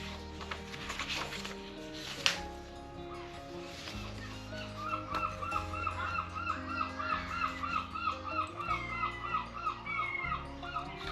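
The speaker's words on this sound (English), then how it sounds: "Those seagulls outside getting really excited." Seagulls calling excitedly outdoors, a run of repeated honking, yelping cries rising and falling at moderate distance, with low rumbling background noise beneath.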